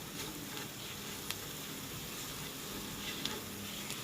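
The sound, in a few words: masala spices frying in a pan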